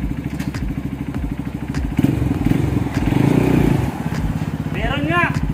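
A Honda CRF 150L motorcycle engine runs in first gear after a clutch spring install and oil change, a steady close-up rhythmic chugging with clattery mechanical knocks, joined by a voice near the end.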